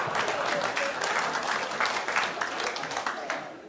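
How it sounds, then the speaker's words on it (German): A comedy-show audience in Meerbusch bursts into loud, dense applause that holds steady from start to finish with no gaps. "erstaunlich viele Klatscher an der Stelle"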